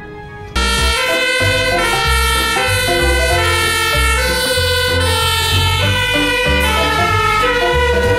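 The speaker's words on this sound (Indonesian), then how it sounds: "Wah, ada juga mobil pemadam kebakaran." A toy fire truck's electronic siren plays a loud, steady, tone-rich wail that starts about half a second in and keeps going without a break.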